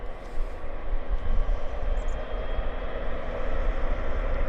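Airliner engines at takeoff power, heard as a loud continuous roar and rumble that holds steady throughout.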